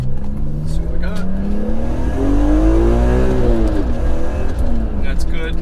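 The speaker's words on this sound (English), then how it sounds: "I hope you guys can hear the raspiness of these cars. That's just typical S54." BMW S54 engine revving with a raspy tone, rising and falling in pitch as the car accelerates and shifts, loud and close, with a voice speaking briefly over it.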